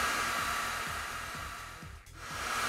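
A heat gun runs at full power, blowing hot air upward during soldering on a car alternator, a loud steady rushing hiss with a low rhythmic motor pulse and a brief dip near the end.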